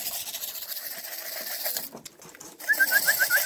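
Homing pigeons and their young flying and cooing outdoors, with a steady flutter of wings and bird noise throughout, a brief lull, then a short run of repeated chirping calls near the end.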